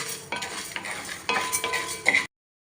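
Spoon stirring chana dal and urad dal as they dry-roast in a pan, a continuous scraping rustle with a few metallic clinks, close and fairly loud, ending abruptly in silence.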